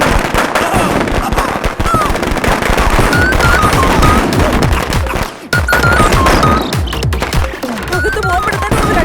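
Firecrackers burst in a dense, continuous barrage of loud sharp cracks and pops, close and overlapping without pause, with a brief lull near the middle, in a Malayalam village film scene.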